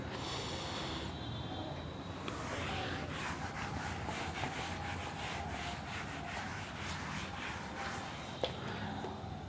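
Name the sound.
rubbing out writing on a board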